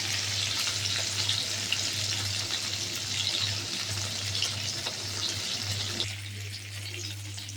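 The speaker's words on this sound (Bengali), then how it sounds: "মাছটাকে ভালো করে ভাজা করে নেব।" Pieces of fish frying in hot oil, a close, even sizzle with small crackles over a low hum, dropping to a quieter hiss in the last second and a half.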